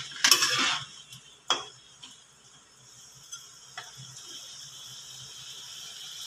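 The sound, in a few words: adding fried eggs into thick gravy in a pan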